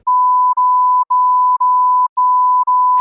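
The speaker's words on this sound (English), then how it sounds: "I'll bleep that last one out." A steady electronic censor bleep, a pure tone repeating in evenly spaced segments with brief gaps, loud and alone, cut off by a short noise at the very end.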